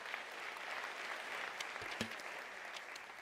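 A large crowd at a university autumn graduation ceremony applauds in a continuous, distant-sounding patter of many hands, faint and even throughout, with a couple of slightly sharper claps standing out.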